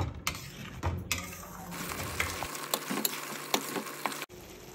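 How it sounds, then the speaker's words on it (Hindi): Masala paste for rajma, made without garlic or onion, fries and sizzles in a pan while a spoon stirs and scrapes it, with soft clinks and scraping strokes at close range and no talk. "ये देखिए कितना बढ़िया इसमें मसाला मेरा भून के रेडी हो गया।"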